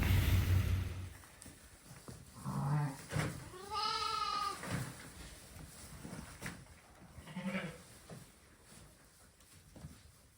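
Sheep on a Nebraska farm bleat several times, one long wavering call standing out among shorter ones, with quieter gaps and low background noise between them.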